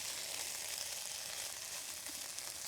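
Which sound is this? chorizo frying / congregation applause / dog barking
chorizo frying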